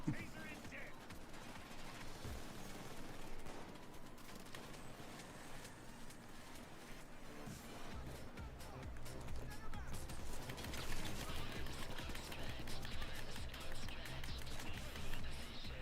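Sniper and turret gunfire in a video game raid, a busy spread of shots and impacts under game noise, growing louder and denser in the second half.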